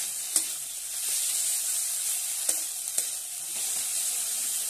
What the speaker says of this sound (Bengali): তো আদা দিয়ে আমি একটু ভালো করে নেড়ে নিচ্ছি